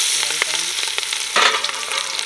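Onions crackle and sizzle in hot oil as tempering for a spiny gourd biryani, a close continuous fry broken by several sharp stirring scrapes against the pan.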